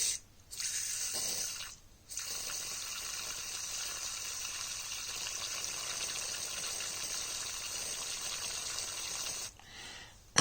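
Liquid is poured onto the pivot of a Victorinox Climber pocket knife, giving a steady close hiss and splash that runs for about eight seconds between two brief pauses.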